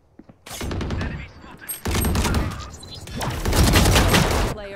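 Rapid gunfire bursts from Valorant, a tactical shooter, come in repeated volleys across the clip, loud and dense, with heavier bursts near the end and brief gaps between.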